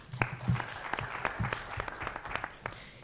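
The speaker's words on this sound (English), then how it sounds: "let us clap for ASSEK team" A small audience at a startup and SME association event claps for the team, sparse and fairly quiet, with individual claps distinct rather than a dense roar.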